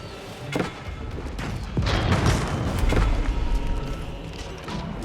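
Cannons in Age of Empires 4 fire on a keep during a battle: a few heavy booms and thuds over a dense, rumbling background of combat noise, fairly loud and without talk.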